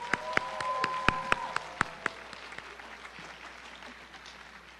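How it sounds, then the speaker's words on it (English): Scattered handclaps follow a Bharatanatyam arangetram dance recital, a dozen or so crisp individual claps in the first two seconds that soon thin out and fade into quiet room tone. "Can we get another round of applause for Pradhanya?"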